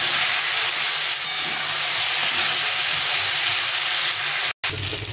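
Radish, eggplant and potato pieces fry with salt and turmeric in a pan, making a loud, continuous steamy hiss and sizzle that cuts out for a moment near the end.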